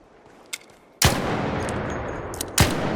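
Two loud, sharp shots from the Anvil, a six-round heavy handgun in a video game, fired alone about a second and a half apart, each followed by a sustained ringing tail, with a faint click before the first.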